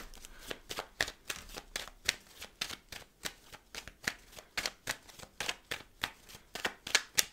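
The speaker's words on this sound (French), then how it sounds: "trop de cartes tombent" Tarot cards riffled and shuffled by hand in a steady run of crisp, close flutters and slaps, with a few cards slipping loose and dropping out of the deck.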